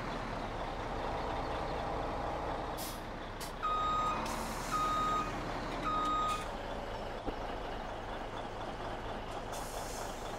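A truck in Farming Simulator 17 backs up with three evenly spaced reversing beeps over a low diesel engine drone, then a sharp air-brake hiss, close and clear with no talking.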